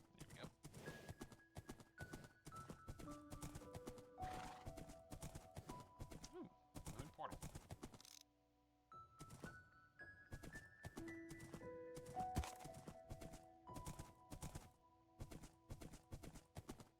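Horse hooves clip-clop in a video game, a quick steady trot of hoofbeats under a music soundtrack, briefly pausing midway before resuming, faint and distant in level.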